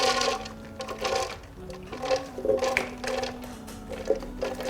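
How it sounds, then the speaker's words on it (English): A kitchen blender grinds beans and tuna mix for alale in batches, a whirring motor running in uneven surges, close and moderately loud, with no talking. "I'm just gonna go ahead and blend my mix for my alala now"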